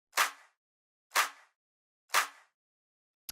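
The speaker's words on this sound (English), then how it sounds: "the next thing I want to talk about is a clap" Three evenly spaced hits of a two-layer future house clap sample ring out alone, each a crisp, bright snap with a short airy tail, followed by a tiny faint click at the end.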